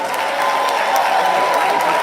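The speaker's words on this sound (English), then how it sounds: "give them a round of applause as they come" Audience applause at a Kwanzaa show welcoming the Giwayen Mata performers, a steady dense clapping wash from a crowd, continuous and fairly loud throughout with no voices standing out.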